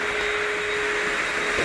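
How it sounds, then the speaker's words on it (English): A vacuum cleaner runs steadily and loud close by, a continuous broadband whoosh with a constant motor whine, during final cleaning of a newly built house after painting. "I asked Juan Carlos to vacuum again to make sure that we don't leave any kind of paint"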